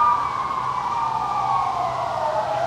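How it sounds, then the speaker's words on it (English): A police car siren wails at moderate distance, one long tone slowly falling in pitch, steady and fairly loud over low traffic rumble, with no talk. "Oh, okay, that's police."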